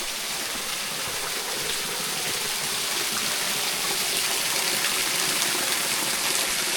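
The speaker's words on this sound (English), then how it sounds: "semi-frozen waterfall" A semi-frozen waterfall on a winter creek trail rushes steadily in the cold, a dense, even wash of falling water heard close and alone with no voices.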